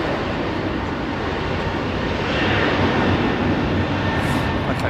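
An airliner taxis out at London Heathrow, its engines producing a steady, broad roar that swells slightly midway with no distinct breaks.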